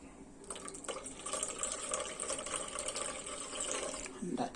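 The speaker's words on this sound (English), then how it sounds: "And I add a little water." Water poured into a frothy milk mixture for Jamaican rice and peas, a steady trickling pour lasting a few seconds at close range.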